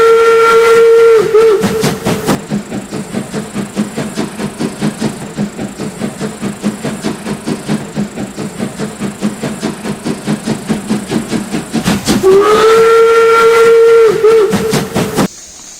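Steam train on the Black Forest line at Triberg, Germany: a loud sustained steam whistle blasts at the start and again near the end, with rhythmic chuffing and rolling wheel clatter filling the middle.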